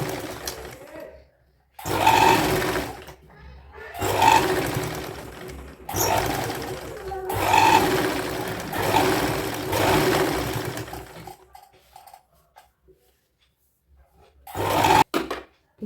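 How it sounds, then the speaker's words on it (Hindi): A sewing machine stitches a folded extra corner of old saree fabric being made into a dress, heard as four loud, close bursts of fast whirring stitches with brief silent gaps, then a short final burst. "कॉर्नर पे ये जो हमारा कपड़ा एक्स्ट्रा है इसको हम फोल्ड करके सिलेंगे"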